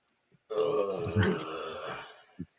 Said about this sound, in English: That's just a burp to me.